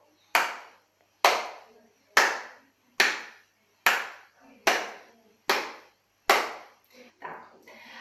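Nine sharp hand claps at a steady pace, roughly one per second, evenly spaced and fairly close, with a couple of softer taps near the end, performed during a hand-switching brain coordination exercise.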